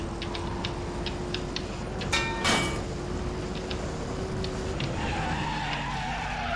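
Koenigsegg Regera in Need For Speed World skidding under hard braking, a continuous gritty tire scrub over a low engine hum, with a brief sharp burst partway through and faint ticking clicks.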